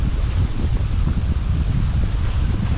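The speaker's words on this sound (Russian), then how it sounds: "Горячий прорывается ветер." Hot, steppe-like wind gusts outdoors during a rafting trip on the Kazyr and Tom rivers, a steady loud rush and buffeting against the microphone that runs without a break.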